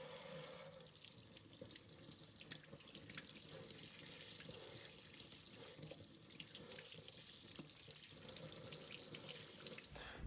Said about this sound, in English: we're going to rinse these off with cold water.